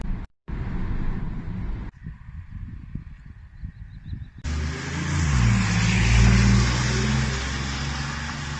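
A BMW i8 Roadster drives along; a muffled engine hum gives way to a loud, close, sustained roar as the car accelerates, with no talking over it.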